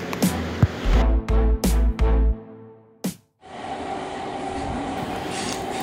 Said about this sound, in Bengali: তারা দুজনে উত্তরপাড়া স্টেশনে এসে হাওড়াগামী একটা ট্রেনে চেপে বসে।